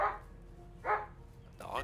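Three sharp dog barks from a game dog in Project Zomboid, spaced out over a couple of seconds against a low background hum, with a short silent gap between each bark.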